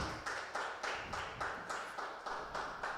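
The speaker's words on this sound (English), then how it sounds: "keep clapping, keep clapping, keep clapping" A conference audience claps in a steady, rhythmic beat, roughly three to four claps per second, sustained and moderately faint.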